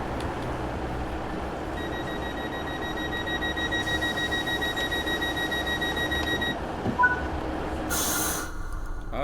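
A steady electronic door-closing warning tone beeps over a low rumbling hum inside a Class 150 train in Train Sim World 6 on the Riviera line, followed by a brief burst of hiss near the end.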